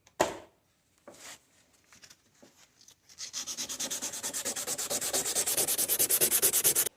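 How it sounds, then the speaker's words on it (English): Oxidized metal sanded by hand with 320 grit sandpaper: a few tentative scrapes, then a steady run of loud, close, rhythmic back-and-forth rasping strokes. "I'm actually just going down to 320 grit sandpaper"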